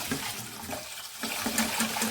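Hot tap water runs steadily into a pan while rice is rinsed until the water is no longer milky, a continuous close splashing wash with slight surges.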